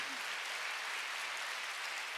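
Sunday worship congregation in a church breaking into applause, a dense steady wash of clapping that fills the short moment at even loudness with no voices over it.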